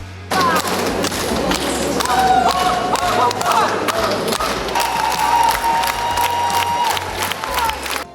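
A concert audience sings along and claps during an air raid alert, a loud mass of crowd voices with tonal singing lines and scattered claps and thumps throughout.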